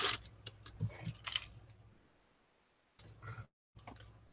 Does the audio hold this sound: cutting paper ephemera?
yes